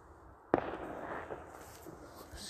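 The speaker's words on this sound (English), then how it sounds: "these fireworks give me the grips" Fireworks set off outdoors at night at a country park, one sharp loud bang followed by a crackling, hissing tail that fades over a couple of seconds.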